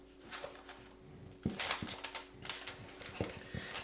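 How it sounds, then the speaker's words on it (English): Aluminum foil is pressed over a Christmas plum pudding bowl, giving close, crisp crinkling and crackling bursts in uneven clusters after a brief quiet start. "We're going to foil this over the top."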